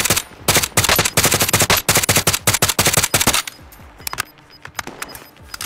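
Rapid automatic gunfire in a first-person shooter match, loud bursts of close shots for about three seconds, then fading to sparser, quieter distant shots.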